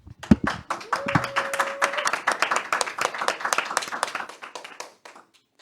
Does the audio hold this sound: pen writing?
no